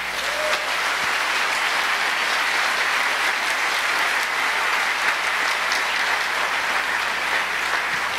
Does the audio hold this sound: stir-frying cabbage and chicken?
no